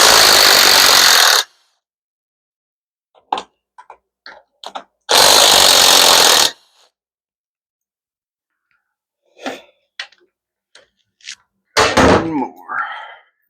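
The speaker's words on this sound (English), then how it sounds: "Cleaning the rest of these bolts out." A power tool drives out bolts from a transmission in loud bursts of whirring, with faint clinks and handling noises between bursts.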